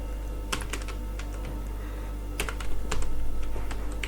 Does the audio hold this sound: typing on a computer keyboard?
yes